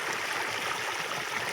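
Water gushes steadily from two electric pump motors running on one line in an onion field, a continuous broadband rush with no pauses, close and heard alone.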